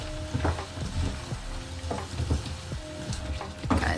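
Thai red curry paste fries in a pan with a constant crackling sizzle, broken by a few sharp clinks and scrapes as it is stirred at irregular intervals.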